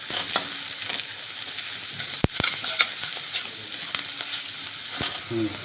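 Turmeric is stirred into ginger and garlic frying in a pan on low heat, a faint continuous sizzle with sharp spoon taps and scrapes against the pan.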